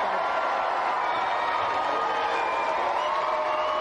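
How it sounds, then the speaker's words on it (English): A studio audience on a 1993 Super Nintendo game show cheers and applauds the contestants, a steady, dense wash of clapping and crowd noise that holds loud and even throughout. "Let's have a big round of applause for all of our contestants."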